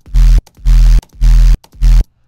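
Four loud bass hits distorted by a white noise plugin pulse in an even rhythm, each a gritty, noisy blast of a booming low note with short silent gaps between.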